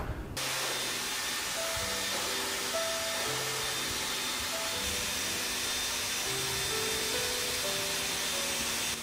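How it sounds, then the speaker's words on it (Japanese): A corded household hair dryer running steadily while drying short hair at night, a loud continuous whooshing blow with a faint whine that starts abruptly and holds for several seconds. "ドライヤーの時間は20分くらいですね。"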